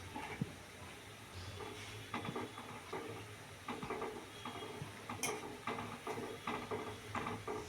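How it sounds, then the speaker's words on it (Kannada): Onion pakoda deep-frying in oil, a faint steady sizzle and crackle with light ticking pops throughout, heard alone and low in level. "ಹೀಗೆ ಗೋಲ್ಡನ್ ಬ್ರೌನ್ ಬರೋವರೆಗೂ ಫ್ರೈ ಮಾಡ್ಕೊಳ್ಬೇಕು."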